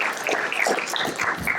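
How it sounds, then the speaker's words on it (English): An audience claps steadily for Doug Peters at a Lehigh Valley Heritage Museum talk about Western Electric in Allentown, Pennsylvania; the applause is a dense, even patter that fills the room throughout. "let's give Doug Peters a real nice round of applause"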